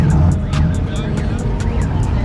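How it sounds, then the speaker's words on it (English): A Chevrolet Camaro pulls in at a busy car meet, its engine a steady rumble under crowd noise, with a run of sharp clicks or ticks over it while people talk nearby. "We got us a Camaro pulling in."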